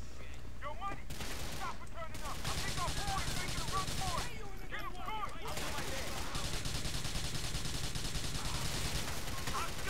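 Pistol shots in GTA IV, repeated cracks amid a busy stretch of in-game gunfire, with someone talking over the action throughout.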